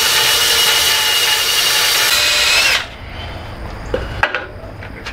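A belt sander grinds against aluminum pipe for a carport build, a loud continuous abrasive whir that cuts off abruptly, followed by quieter clanks and handling knocks.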